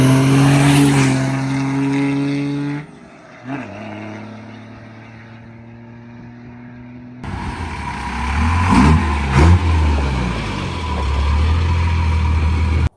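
A Cummins VP44 diesel truck engine revs up, drops back, then climbs again, a loud rising and falling roar with a harsh, whining tone and no talking.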